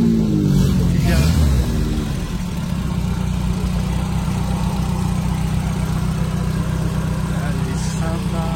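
A 1969 classic car idles at an auto club gathering in Suresnes, a steady, close, low engine hum. A voice is heard briefly over it at the start.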